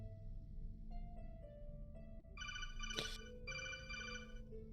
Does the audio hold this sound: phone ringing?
yes